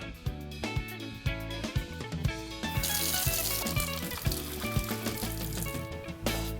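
A kitchen tap runs as hands are washed while cooking Jollof rice, a steady hiss of water under background music that stops after a few seconds.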